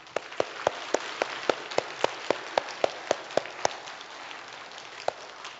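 A small congregation gives a round of encouraging applause at a Korean church service, a steady run of sharp, fairly close hand claps in an even rhythm lasting several seconds, with no talk over it.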